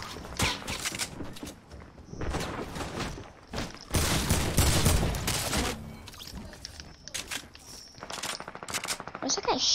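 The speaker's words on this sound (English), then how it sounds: "Where's that guy shooting from?" Rapid bursts of automatic gunfire from an AK-style rifle in an online shooter game, loud and repeated in clusters across the clip with brief pauses between volleys.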